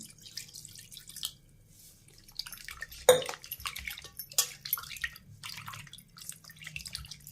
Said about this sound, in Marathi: तीन पाव मटण असं स्वच्छ धुवून घेऊ चार पाच पाण्याने